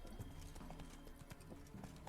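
Horse hooves clip-clopping at a steady walking rhythm in the video game The Witcher 3: Wild Hunt, faint and even against a low game soundscape, with no talk.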